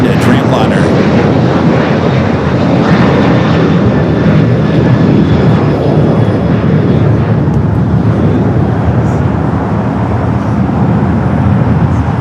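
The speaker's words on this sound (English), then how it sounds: "for the Dreamliner to start its roll there on the north" A Boeing 787-9 Dreamliner jet begins its takeoff roll on the north runway at LAX, a loud, steady engine roar filling the whole stretch without letup.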